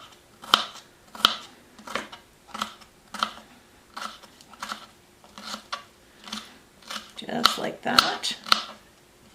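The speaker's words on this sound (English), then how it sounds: "So we're going to cut this very fine." A knife finely chopping food on a cutting board for a small brunch sandwich, a dozen crisp, evenly spaced chops that quicken near the end, close by, with a voice speaking briefly.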